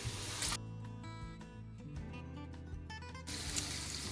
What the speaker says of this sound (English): we're just going to spray some cold water on them because we want some cold noodles